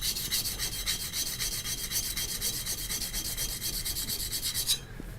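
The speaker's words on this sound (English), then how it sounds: "I actually can grind fast enough on the sandpaper that sometimes I have to cool it off." A steel hand plane iron from an old garage-sale plane is rubbed back and forth on sandpaper, producing a fast, even rasping scrape in steady strokes that stops abruptly near the end, close up with no talking.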